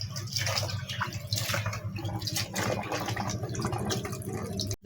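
Okra (bhindi) being rinsed by hand in a bowl of water before cutting. Splashing, sloshing and dripping continue steadily and close, with a low murmur underneath.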